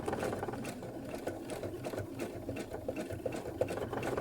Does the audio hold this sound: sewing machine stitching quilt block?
yes